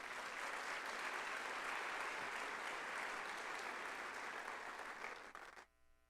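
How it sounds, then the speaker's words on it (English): Sustained audience applause at a scholarship induction ceremony following the national anthem, a steady dense roar of clapping from a large crowd that cuts off abruptly near the end. "Let's give another round of applause"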